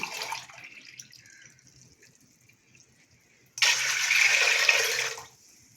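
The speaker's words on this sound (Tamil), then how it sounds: "இப்போ நம்ம இந்த ரெண்டு கப்பு தண்ணி ஊற்றிட்டோம்ப்பா" Two cups of water pour into a cooking pot for pongal: a short splash trickles off at the start, then after a quiet pause a louder, steady pour runs for over a second close by.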